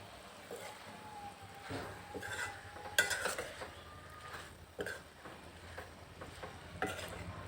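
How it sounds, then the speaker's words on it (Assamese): Chicken curry with banana flower and a pinch of turmeric is stirred in a pot after the lid comes off, with faint scraping and scattered clinks of the spoon against metal over a quiet, low simmer. "এতিয়া আকৌ লৰাই ঢাকনখন উদঙাই অকণমান লৰাই দিম"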